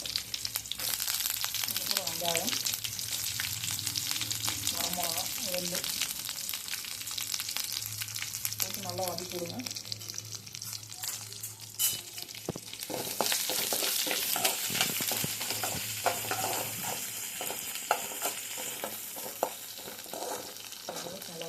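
Curry leaves fry in a pan for a spinach stir-fry, giving a continuous close sizzle with scraping stirs and sharper crackles in the later half. A voice is faintly audible early on.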